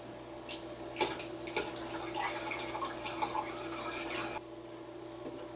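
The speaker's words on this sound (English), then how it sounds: "And then you just pour the water in." Water poured into a home fish tank during a water change, a steady splashing, trickling pour from about one to four and a half seconds, then fading to quiet room hum.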